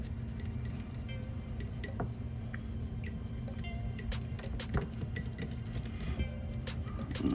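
A spoon stirs a hot pepper sauce mixture in a bowl, with quick irregular clinks and taps of metal on the dish over low background noise, fairly faint.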